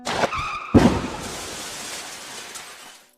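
Car crash sound effect of a minibus slamming into a Fuso truck: a tire squeal leads into a loud crunching impact with shattering glass, then debris settles and fades.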